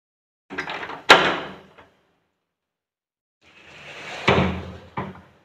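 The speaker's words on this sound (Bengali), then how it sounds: "চলুন সামনের দরজাটা খুলে দিই।" A house front door swung open during a spell of heavy rain, one sharp knock or latch clack followed by a swishing creak, then after a pause a longer rattling rustle and a final thud, close by with no talk.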